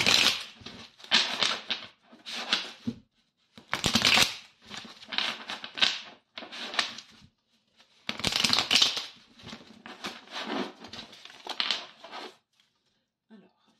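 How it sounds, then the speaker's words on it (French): Tarot cards shuffled by hand in repeated bursts of close, crisp riffling and slapping, with short pauses between bursts; talking is heard faintly in places. "on va bien brasser les cartes"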